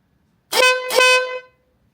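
A Denali SoundBOMB split motorcycle horn gives one loud, close, brassy honk lasting about a second, with a slight waver in the middle, then stops into silence.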